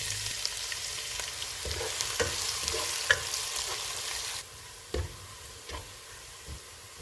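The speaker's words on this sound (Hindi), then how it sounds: "एक प्याज डालेंगे, इसको गोल्डन ब्राउन फ्राई करेंगे।" Onions sizzle and crackle steadily in a hot pan as they fry toward golden brown, with a few light clinks of stirring; the frying quiets slightly partway through.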